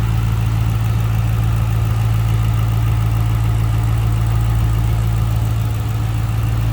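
A 2006 Ford Mustang Saleen S281 convertible with the 3-valve V8 idles close by. It gives a loud, steady, low rumble that stays even throughout, with no voices.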